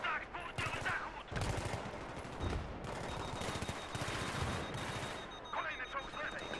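Rapid bursts of gunfire crack and rattle in quick succession, with heavier booms mixed in, like a chaotic firefight with voices underneath, in the video game Battlefield 3 with tanks.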